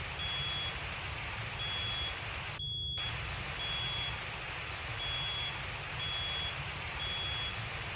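A smoke alarm inside a burning house in a firefighting game gives a steady high electronic beep that runs continuously, cut off briefly once before resuming, over a low rumbling background.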